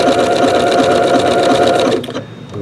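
Janome sewing machine stitching at a steady fast pace, a loud, even mechanical hum with rhythmic needle ticks, stopping abruptly near the end.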